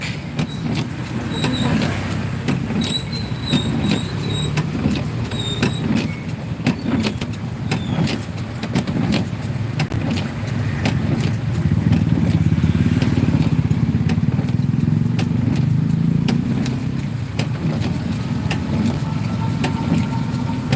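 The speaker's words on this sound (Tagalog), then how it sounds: "traffic nga guys" Road traffic in General Trias, Cavite, backed up near a crossing: a continuous wash of car and motorcycle engines, close and fairly loud, with passing vehicles swelling the noise midway.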